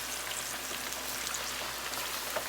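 Chicken wings frying in hot oil, a steady dense sizzle and crackle with scattered pops, fairly quiet and continuous without any voices.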